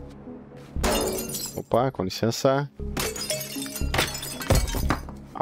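Glass shattering and smashing in the destruction game Teardown, several sharp breaks and tinkling shards in bursts, with excited Portuguese chatter throughout.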